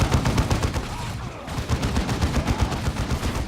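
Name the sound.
plasma gun fire in Dawn of War II video game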